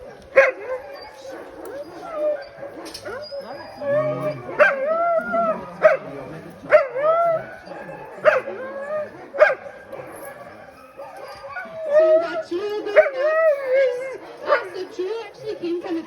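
Denali sled dogs yip, bark and whimper in repeated short bursts, fairly close and lively, with a person talking intermittently among them.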